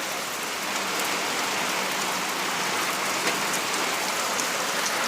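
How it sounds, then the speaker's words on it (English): Heavy rain from Tropical Storm Alberto in South Alabama pours down in a steady, dense hiss, close and unbroken throughout with no voices. "Look at all that rain."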